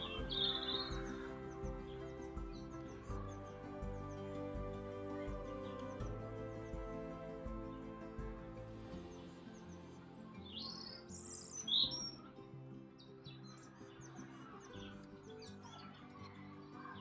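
Wild birds visit water on a garden bird table, giving faint, scattered chirps and short song phrases over a soft, low background hum.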